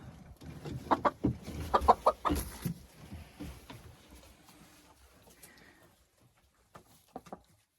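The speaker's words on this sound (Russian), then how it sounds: "Несу курочку в курятник." A hen being carried to the coop at night gives several close, clucking bursts in the first three seconds, then the sound tapers to quiet with a couple of faint clucks near the end.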